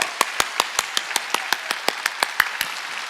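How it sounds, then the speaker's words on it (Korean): A church congregation at a Wednesday worship service claps loudly in unison, sharp claps landing in a steady rhythm about five per second. "박수 세게 치라고"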